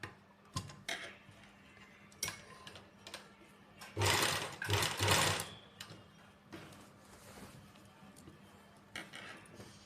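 A sewing machine stitches lace onto the edge of a dupatta, with short ticking bursts of stitching, a louder faster run in the middle, and quieter intermittent passes around it, alone without voices.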